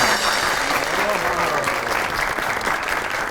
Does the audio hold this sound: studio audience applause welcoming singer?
yes